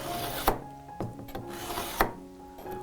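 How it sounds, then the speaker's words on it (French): A steel knife drawn along a diamond sharpening stone from heel to tip, giving a few distinct scraping strokes with sharp onsets, close and fairly quiet, no talking. "On va avoir ici le couteau bien parallèle, on le tire ici de la garde jusqu'à la pointe"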